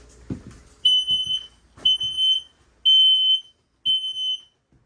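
A smoke alarm in a 2023 Thor ACE 29D motorhome shrieks in four loud, piercing beeps during a test, each about half a second long with short gaps, after a brief click and some handling noise.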